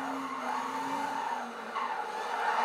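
Nissan 240SX tires skidding while drifting in Gran Turismo 5, a sustained squeal of rubber layered over a steady engine drone, loud and close for a few seconds.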